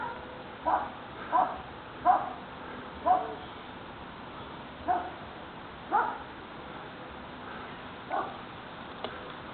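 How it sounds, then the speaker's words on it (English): Dogs bark at night in Soham, eight or so short barks in an uneven series, moderately distant and fairly loud against a quiet, low background hum. "Oh, set some dogs off barking."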